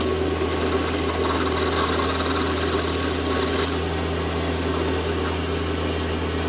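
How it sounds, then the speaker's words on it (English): A lathe drilling a hole in a shop-made knurling tool part runs with a steady mechanical hum and whine, constant and fairly loud throughout. "we managed to drill the top one in exactly the same way as the bottom one"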